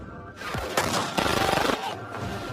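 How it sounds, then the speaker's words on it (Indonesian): A fierce shootout from the action film Safe (2012), with bursts of rapid gunfire and sharp cracks over a dense, loud wash of noise that swells and fades across a couple of seconds. "Melihat itu dengan cepat geng Koko menyerang hingga terjadilah baku tembak yang sengit."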